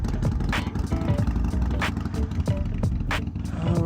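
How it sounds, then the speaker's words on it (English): A Harley-Davidson Iron 883 motorcycle engine idles as it warms up, a steady close-up rumble with continuous low throb, no talking. "I'm gonna let the bike warm up for a bit"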